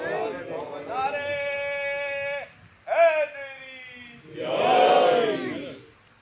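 A crowd at a Muharram majlis gathering chants the religious slogan Naara-e-Haidari in unison, loud sustained voiced calls in two or three bursts, the last a broad roaring response.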